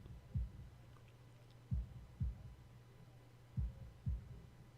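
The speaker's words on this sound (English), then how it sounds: "holding my breath in an attempt to hear my heartbeat" Heartbeat sound effect in the Katawa Shoujo video game: low, muffled double thumps repeating at a slow, even pace over a soft hum, alone without voices.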